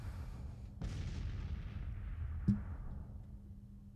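Artillery fires in a Civil War strategy game, set in Missouri in 1861: a heavy booming shot with a long rolling rumble as it dies away, then a sharper second report a moment later, with no talk over it.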